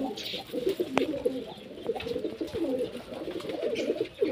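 Pigeons coo in soft, repeated throaty phrases close by in a house full of pigeons and chicks, with a few faint chirps in the background.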